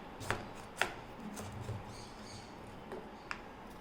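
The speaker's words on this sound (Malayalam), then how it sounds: "ഇങ്ങനെ തോല് ചെത്തിയെടുക്കാം." A knife shaves the tough skin off a ripe pumpkin in a kitchen, giving a few sharp scraping cuts spaced irregularly over a quiet background.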